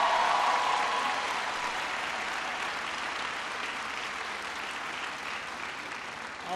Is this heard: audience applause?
yes